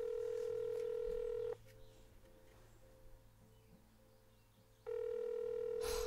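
A telephone call placed in the House Flipper video game gives a steady dial tone, then a softer pulsing ringback, then the steady tone again, clear and alone with faint background hum.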